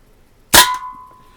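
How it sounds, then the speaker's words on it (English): A Daisy Red Ryder BB pistol shot strikes a can with one sharp, loud metallic clang that leaves a short ringing tone, close by and alone. "First thing I'll do is shoot at the can."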